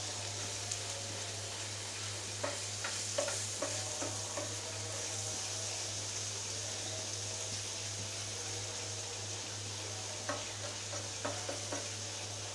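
Snake gourd frying with egg in a pan, a soft continuous sizzle with scattered light spatula taps over a low steady hum.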